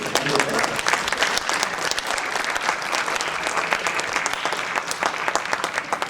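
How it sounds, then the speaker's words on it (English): An audience applauds a science panel at the close of a talk with area high school students, loud continuous clapping from a sizable crowd lasting several seconds, steady and unbroken, with no speech over it. "Let's give a round of applause to our panel again"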